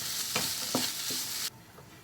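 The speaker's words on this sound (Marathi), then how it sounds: "चवीनुसार मीठ घालून घ्यायचं पूर्ण भाजी मिक्स करून घ्यायची" A dish of ambadi leaf greens with salt hisses steadily in a pan while a spoon stirs it in a few soft scraping strokes. The sizzle drops away abruptly partway through, close and with no voices.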